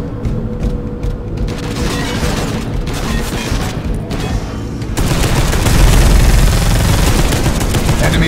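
Heavy stubber fire in Space Hulk Deathwing thunders as dense, continuous automatic gunfire with booming impacts, growing louder and heavier midway through.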